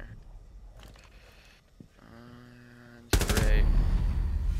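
Sudden loud burst of gunfire in Rainbow Six Siege erupts after a quieter stretch of ambient game sound, continuing dense and sustained to the end.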